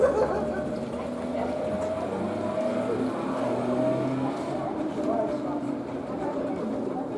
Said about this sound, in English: Oh, there's something with two-stroke. DKW Junior. Assuming it's leaving.